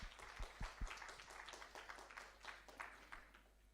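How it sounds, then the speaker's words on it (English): An audience at a talk claps together, a faint, quick patter of many hands rising briefly and fading, with no voices over it. "this deserves a big clap"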